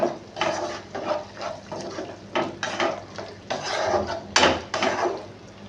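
A pot of boal fish curry is stirred with green chilli added, bringing a run of clattering scrapes and knocks of utensil on metal over a low simmer, with a heavier clank that fits a lid going on.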